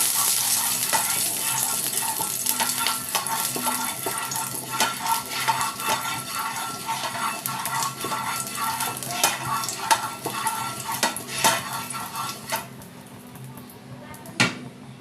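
Food stirred in a little oil in a wok, a continuous close sizzle with rapid rhythmic scraping and clinking of a spatula against the metal, loud and without speech.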